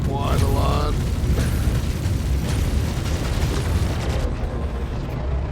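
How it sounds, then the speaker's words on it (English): A heavy explosion booms in Star Citizen space combat against a freelancer ship, a dense roaring blast that fills the scene and slowly fades, with talk over it. "He went right into the explosion."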